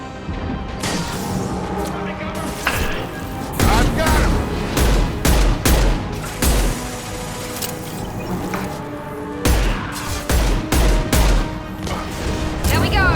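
Heavy, booming gunfire in Mass Effect 2 Legendary Edition, coming in several loud clustered bursts of rapid shots between quieter gaps, with a voice talking over the combat.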